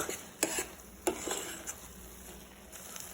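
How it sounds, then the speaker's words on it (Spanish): Onions for onion soup stirred in a pot as they brown, a few sharp scrapes and clinks of a spoon against the pot over a faint background sizzle, fairly quiet. "Lo vamos a tener que mover cada cierto tiempo"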